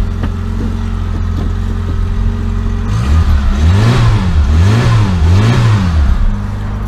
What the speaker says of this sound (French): La voiture démarre.